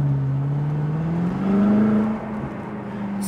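A 560-horsepower BMW M6 in comfort mode accelerating gently from inside the car, a smooth hollow engine hum climbing slowly in pitch, swelling briefly, then settling to a steady cruise.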